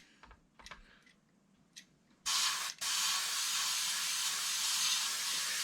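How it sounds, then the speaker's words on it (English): A Makita air compressor at 25 PSI: a few clicks and small mechanical taps, then a loud steady hiss of air that starts abruptly, breaks off briefly, and resumes unbroken to the end. "Now this compressor will maintain an even pressure."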